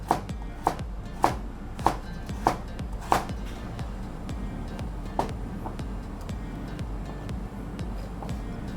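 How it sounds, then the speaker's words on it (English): A knife cuts a carrot into thin julienne strips on a board, with crisp close chops in a quick run of about six, then a few scattered cuts over a low background hum. "I'm going to give it a quick julienne cut"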